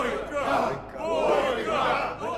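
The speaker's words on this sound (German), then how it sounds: "Jetzt bricht das Publikum in Jubel aus" Arena crowd at a prisoners' deathmatch fight cheering and chanting in rhythmic surges, a loud massed roar of voices rising and falling over about two seconds.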